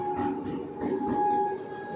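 A train idles at Chennai Egmore station with a steady low hum and a sustained tonal whine, heard close up with no voices.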